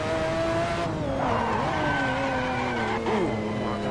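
A McLaren F1 in a racing video game skids with locked brakes, its engine droning steadily while a tire squeal rises and bends over the continuous roar, loud and up close.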